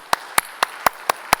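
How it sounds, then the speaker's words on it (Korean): A church congregation claps in unison: six sharp, evenly spaced claps at a steady rhythm, clear and fairly close in a quiet room. "여러분 한번 모두를 위해서 한번 우리 시간 박수로 한번 격려하면 어때요?"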